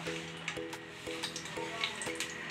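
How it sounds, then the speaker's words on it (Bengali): Six garlic cloves and two dry red chillies frying in mustard oil, a soft, steady crackling sizzle beneath a repeating tonal music loop. "দুটো শুকনো লঙ্কা আমি ভেজে নেব। দিয়ে দেবো 6টা রসুনের কোয়া।"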